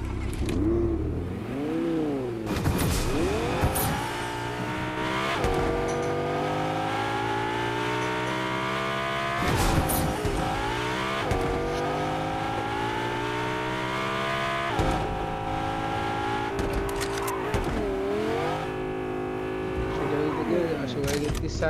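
A car engine in the video game Fortnite revs and hums steadily, its pitch climbing and dipping repeatedly as the vehicle drives, with brief sharp bursts in between and voices talking over it.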